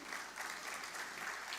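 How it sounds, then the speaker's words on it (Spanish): Quiet, steady applause from a lecture audience farewelling speaker William Ospina after an inaugural talk, a continuous soft wash of clapping heard at a distance. "Te despedimos con un gran aplauso."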